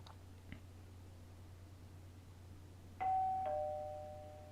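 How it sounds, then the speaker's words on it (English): A clear two-tone electronic doorbell chime, a Danganronpa Another fangame alarm, rings once, its second tone lingering and fading over a faint steady hum. "The doorbell sound for the alarm, or the announcement, is always so strange to me."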